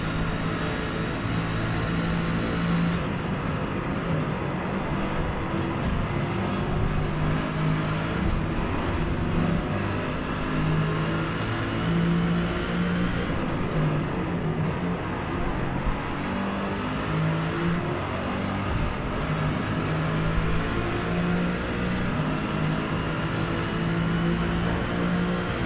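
A Mercedes race car's engine revs steadily and accelerates on a race track while battling an Audi R8, holding a loud, continuous high-rpm drone through the power band with no one speaking.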